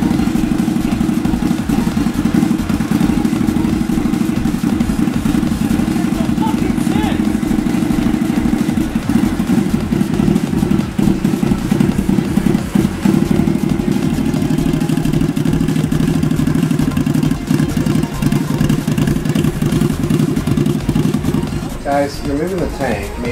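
A Suzuki TL1000R motorcycle engine runs steadily on a dyno at a loud, constant idle-like drone for the whole stretch. It fades slightly near the end, with a faint clatter.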